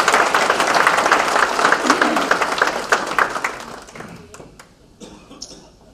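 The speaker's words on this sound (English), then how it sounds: "you guys owe yourself a big round of applause" Audience at a chamber of commerce awards dinner bursting into loud sustained applause that gradually thins out to scattered claps, with some coughs and murmured voices near the end.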